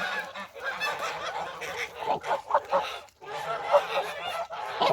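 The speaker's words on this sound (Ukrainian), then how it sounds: "Там вже гуси, чи вони паруються, чи вони б'ються." Several geese honk loudly and harshly at close range, a rapid, overlapping run of calls with short pauses, as if in a squabble or courtship in a farmyard.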